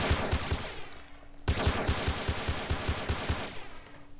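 Rapid gunfire in the SA-MP (San Andreas Multiplayer) game: a steady run of sharp shots in quick succession, briefly broken and then resuming with the same pace, loud and close, with no talking.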